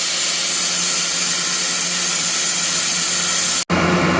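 A Gardner Denver EBE99K screw compressor runs with a steady, loud mechanical drone and airy whir, constant throughout before a sudden brief dropout near the end.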